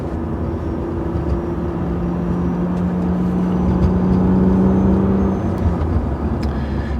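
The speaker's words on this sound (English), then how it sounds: "Annoying noise is the thing the car tends to make." A BMW E36 M3 in Techno Violet heard from inside the cabin while driving at sunset, with a steady loud engine and road drone, a sustained tonal whine and no talking.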